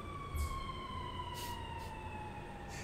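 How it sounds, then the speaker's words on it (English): Emergency vehicle sirens wail outside in the distance, a steady sweeping tone over a low traffic rumble, faint and continuous with no talk over it. "Sirens going off in the background if you can't hear them."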